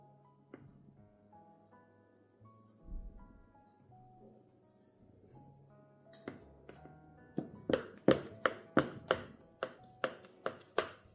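A knife cuts through layered baklava dough on a board, a run of sharp, evenly spaced taps and thunks growing louder and quicker toward the end, close by with no talk.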